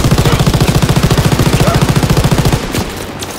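A machine gun in the WW2 game fires a long, loud, steady burst of rapid evenly spaced shots for over two seconds, then stops and leaves a fading echo.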